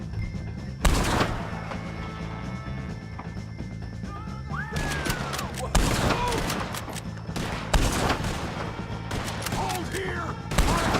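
Gunfire rings out in a Red Dead Redemption 2 shootout against O'Driscoll gang members, sharp loud cracks spaced irregularly over about ten seconds, some doubled into quick bursts, with shouted voices between the shots.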